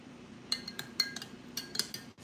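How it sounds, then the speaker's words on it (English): A spoon stirs milk in a container while making kefir, giving quiet, irregular clinks and scrapes against the sides over a couple of seconds, with no talking. "the goal is to stir this until it's dissolved"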